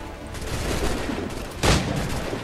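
A single loud gunshot bursts out of a constant din of battle noise in the video game Assassin's Creed III, standing briefly above the surrounding clamor.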